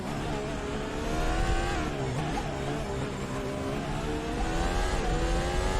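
Race car lapping the Canadian Grand Prix circuit in Assetto Corsa, its engine droning at a steady high pitch with rising and falling revs through gear changes, loud and close with no talk.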